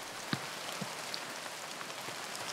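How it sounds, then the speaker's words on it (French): Heavy tropical rain pours down steadily on Réunion island during extreme weather, a dense even hiss of drops on surfaces with a few sharper splashes, no voices. "la pluie s'est encore intensifiée"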